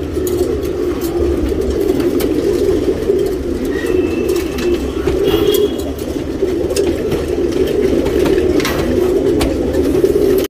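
A top-class female tournament pigeon from Bangalore coos in a steady, low, continuous murmur. The cooing stays close and fairly loud for the whole stretch, with faint background noise and no talking.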